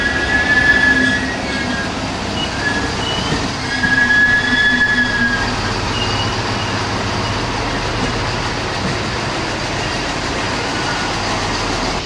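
A brand-new Desiro train arriving from Sibiu rolls into a large station in Romania, a steady loud rumble of wheels with brief high squeals, heard alone without voices.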